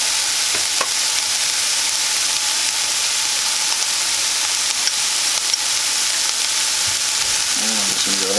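Bacon and egg omelet frying in a pan, a loud continuous sizzle and crackle that holds steady throughout, close up, with an occasional soft clink near the end.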